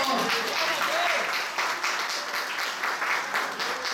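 A church congregation applauds during a worship service, a steady, dense wash of clapping that fills the room for the full stretch, with voices mixed in among the claps.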